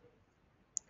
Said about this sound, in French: si je clique ici